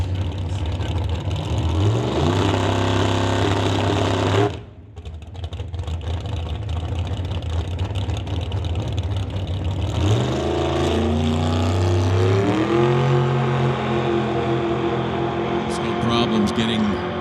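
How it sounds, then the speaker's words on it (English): A dragster launches off the start line at an NHRA Summit ET Series drag race, its loud engine roaring and revving in rising harmonic sweeps, with a sharp dropout midway before another loud launch builds, heavy crowd and track noise around it. "Getting their dragster off the start line."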